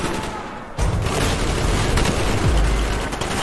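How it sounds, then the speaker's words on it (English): Semtex grenade blast in Call of Duty: Black Ops amid a loud jungle firefight, a dense roar of gunfire and a booming detonation filling the whole moment. "Let's see what this Semtex can do. Fire in the hole."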